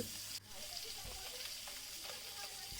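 Koi fish fry in a pan over a village clay stove, giving a soft, steady crackling sizzle with a brief knock near the start, faint and close throughout.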